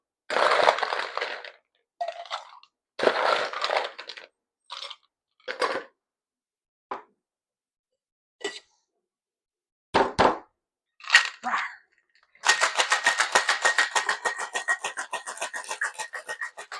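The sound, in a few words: cocktail shaker tin with ice being shaken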